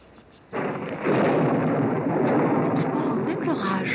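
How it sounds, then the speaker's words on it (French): A deep, sustained rumble of thunder from a storm swells in and rolls on heavily without a break, loud and broad, with brief faint voice sounds over it. "Oh, même l'orage."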